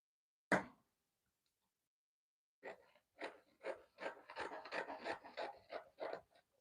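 Fabric being folded for a pocket on a sewing project: one sharp rustle, a pause, then a steady run of soft rubbing, creasing strokes close by, each brief and rhythmic.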